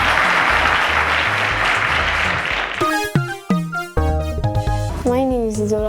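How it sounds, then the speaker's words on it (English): An audience at a televised quiz show final bursts into loud, dense applause for a contestant; it cuts off after about three seconds and a voice and music take over. "round of applause to Oluwafunbi"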